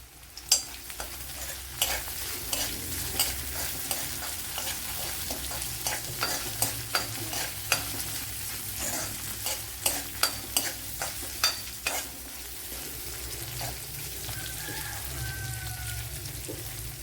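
Ginger, garlic and green chillies frying in hot coconut oil give a steady close sizzle, punctuated throughout by sharp clacks of a spoon stirring against the pan.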